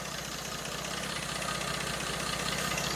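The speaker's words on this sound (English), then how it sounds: "This is what you call a smooth engine." A car engine idles smoothly and evenly after being revived, a steady, close rumble with a soft rhythmic pulse and no voices over it.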